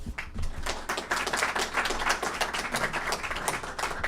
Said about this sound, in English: please give a warm applause for Bruce